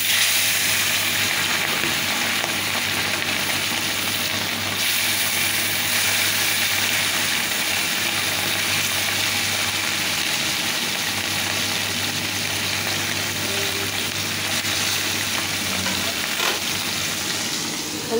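Bata fish fry in oil in a pan, making a steady, close, continuous sizzle that lasts throughout without talk.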